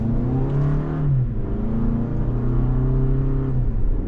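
A 2025 Toyota RAV4 XLE AWD with a naturally aspirated 2.5-liter inline-four accelerates under load, a steady droning engine hum with rising and falling harmonic tones, heard from inside the cabin, fairly loud and continuous.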